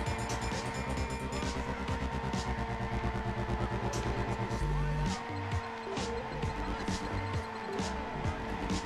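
In Juiced 2, a race car roars around the track with a continuous loud engine drone and shifting revs, some tire noise mixed in, while someone talks over it.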